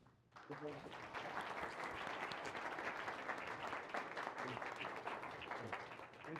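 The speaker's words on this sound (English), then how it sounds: "I don't get clapped very much." A crowd of visiting students applauds inside a courthouse, a sustained, fairly distant wash of clapping that starts abruptly and carries on for several seconds, with a faint voice beneath it.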